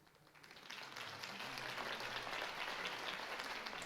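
Crowd applause following Harvey Dent's campaign speech in the Batman Telltale video game, a dense wash of clapping that swells in over the first second and then holds steady and fairly loud.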